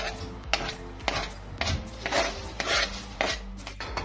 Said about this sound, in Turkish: Şimdi ince doğramaya başladık.